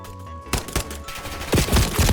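Gunfire in Warzone Mobile: a few sharp separate shots and short bursts over a low game background hum, close and fairly loud.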